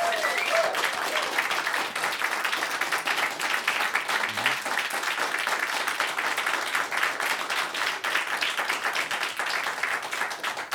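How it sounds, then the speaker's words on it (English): A studio audience applauds a band during a radio in-studio session, continuous close clapping sustained evenly for the full duration without pause. "Please give them a big round of applause."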